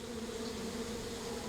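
Bees buzz around a hive in a steady, close drone with a constant pitched hum and no other sounds.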